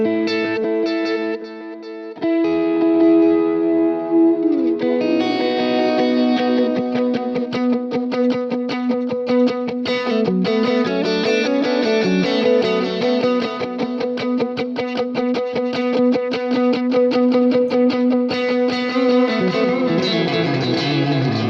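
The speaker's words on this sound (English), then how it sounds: "This is tape delay. You can kind of hear it." An electric guitar runs through a tape delay effect on a Quad Cortex, playing loud, sustained, slightly distorted notes whose repeating echoes smear together over a long phrase after a brief quieter opening.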